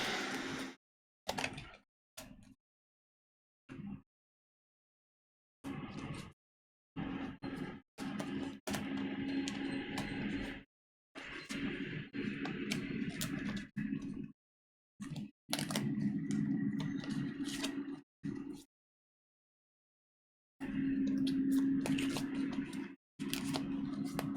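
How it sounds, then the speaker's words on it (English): A deck of tarot cards is shuffled in several separate bursts of crisp riffling and soft slapping, broken by short silences, close and moderately loud. "just gonna shuffle the cards to the next reading"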